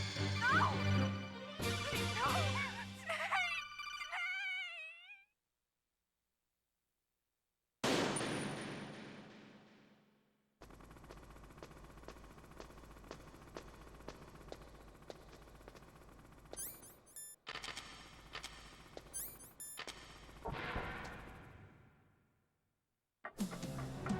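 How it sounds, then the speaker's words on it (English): Gunfire from the Metal Gear Solid video game, bursts of shots in uneven clusters separated by silent gaps, with sustained rapid firing through the middle and some music-like tones early on. "He just wouldn't stop shooting."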